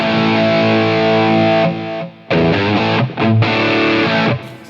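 A heavily distorted electric guitar, an EVH Wolfgang Standard played through a Helix amp modeler, plays sustained chords, loud and close, with brief breaks where the sound cuts out before ringing again.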